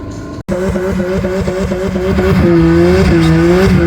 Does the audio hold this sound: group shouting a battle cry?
no